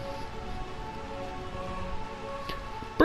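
Steady rain falling over the city of Burmecia in the game Final Fantasy IX, a soft continuous hiss with a faint musical hum beneath and a sharp brief clink near the end.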